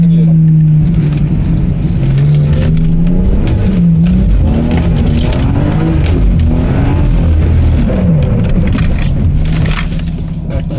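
Turbocharged Lexus GS300 accelerating hard while drifting on a slippery surface, its engine droning loudly and continuously, with revs rising and falling throughout.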